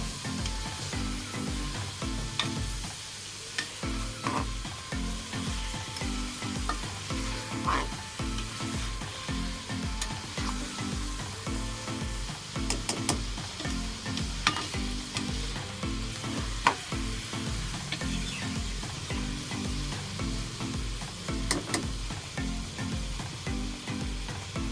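Meat frying in ghee in a pot, loud continuous sizzling with regular stirring and scraping strokes for a long stretch, close up, with no talk over it.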